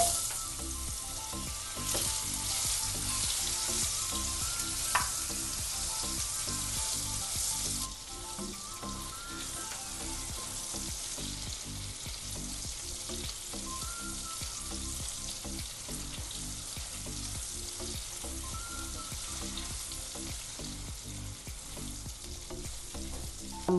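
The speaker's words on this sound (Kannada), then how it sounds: "ಅರಿಶಿನ ಪುಡಿ, ಕಟ್ ಮಾಡಿದ ಮಾವಿನಕಾಯಿ ತುಂಡುಗಳನ್ನ ಹಾಕ್ಕೊಳ್ಳೋಣ." Turmeric powder and cut raw mango pieces fry in a hot oil tempering, giving a loud, continuous sizzle with occasional stirring and scraping in the pan.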